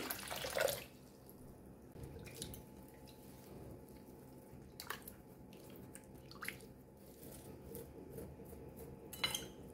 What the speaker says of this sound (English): I'll use some water to help with peeling off the charred skin.